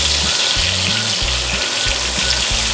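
Ribeye steak searing in butter in a pan, a steady, loud, close sizzle and spatter that runs without a break, with a low rhythmic hum running underneath.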